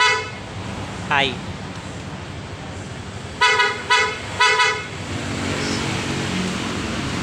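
Dual contact horn on a Yamaha Aerox V2 scooter sounds three short, loud honks in quick succession, preceded and followed by people talking nearby over a steady idle background.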